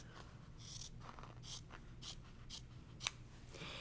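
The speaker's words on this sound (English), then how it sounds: "So now what I will do is just cut this off about 1/4 inch away." Scissors snip through apron fabric, trimming a seam about a quarter inch away: soft, close, separate cuts come in a steady sequence over a low background hum.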